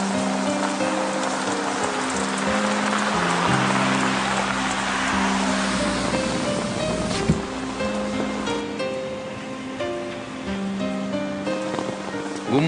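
Rain falls steadily in a dramatic scene, a soft continuous hiss sitting under sustained background music throughout.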